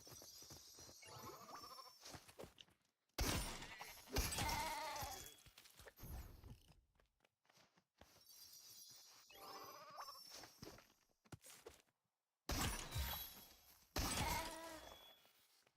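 Sheep in the LEGO Fortnite video game bleat in several loud, wavering calls. The bursts are separated by short silent gaps and there is no talk over them.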